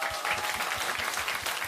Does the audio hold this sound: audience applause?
yes